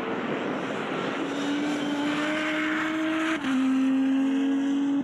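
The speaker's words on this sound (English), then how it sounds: "Adam Bowen needs to find a way past these 2 orange V6 Exeges if he's to get onto the tail of Adam Gore" Lotus V6 Exige race cars drive on the track at Donington, their engines holding a steady droning note that climbs slowly. A gearshift-like dip comes midway before the note continues strong. The sound is loud and sustained.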